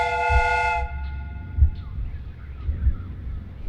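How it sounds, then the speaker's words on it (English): A steam whistle on a replica train in the Sherlock Holmes video game gives one loud, sustained multi-tone toot lasting under a second. It cuts off into a rhythmic low chugging and clanking that continues quietly. "The steam whistle is ready to be used."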